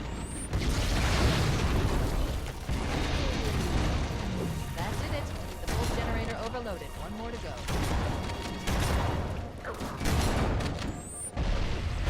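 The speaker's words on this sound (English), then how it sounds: "Have a grenade." Loud, heavy blasts and crashing booms ring out in a Halo: Combat Evolved Anniversary battle after a grenade is thrown, mixed with gunfire and chaotic combat noise, with a voice talking over the action.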